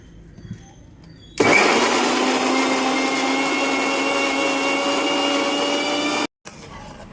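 A grinder crushing jackfruit for chakkayappam starts abruptly and runs with a loud, steady motor whine, then cuts off sharply near the end, followed by a brief low restart.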